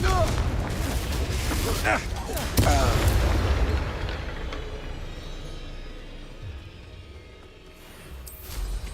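Bombarda and Confringo spell blasts in the video game Hogwarts Legacy, two heavy booming explosions in quick succession with rumbling debris, followed by a softer fading rumble and a spoken line.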